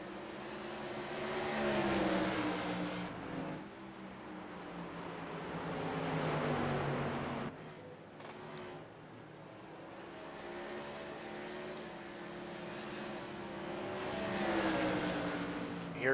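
Modified race cars roar around the North Wilkesboro oval, engines swelling as they pass and fading between, a continuous loud drone of several cars at racing speed.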